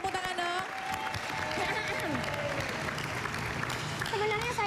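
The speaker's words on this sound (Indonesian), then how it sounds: "Kasih tepuk tangan dong." A studio audience at a televised dating show applauds in a faint, steady patter of clapping, with voices and background music running beneath it.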